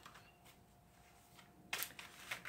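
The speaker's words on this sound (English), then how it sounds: "I'm still shuffling the cards" Tarot cards are shuffled softly and close by, with a faint hum at first and then a burst of quick riffling flicks near the end.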